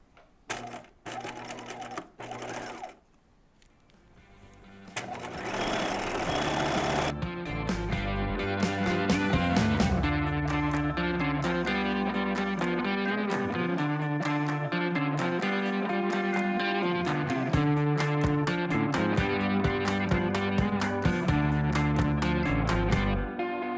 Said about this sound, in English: I'm sewing at 5/8 of an inch the entire crotch curve